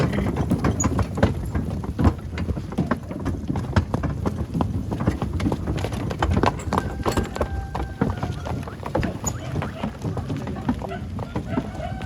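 Hooves of a harnessed seven-year-old draft mare clip-clop in a steady rhythm, with cart rattle and background noise throughout.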